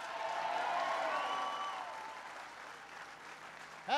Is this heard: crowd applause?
yes